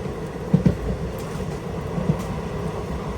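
Inside a moving Sai Nagar Shirdi to Tirupati Express in rain, a steady low rumble of the train fills the car, with a few soft wheel clunks over the rails and no talking.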